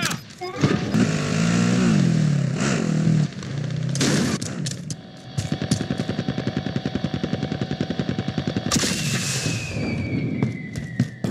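Gunfire in Call of Duty: Warzone, loud shots opening into a long rapid automatic burst of fast, evenly spaced cracks, with voices talking over the firing.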